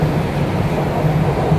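An MRT train near Lebak Bulus station in South Jakarta gives a steady, low rumbling roar, loud and close, that holds unbroken with no voices over it.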